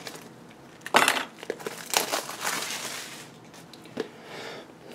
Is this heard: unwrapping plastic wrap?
yes